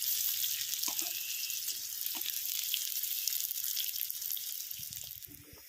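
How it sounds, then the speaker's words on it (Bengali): Finely chopped onions browning in a pan give a steady, soft sizzle of frying that carries on evenly, with a few faint knocks and stirring sounds near the end, and no one speaks. "পেঁয়াজটাকে একটু বাদামি করে আমি ভেজে নেব।"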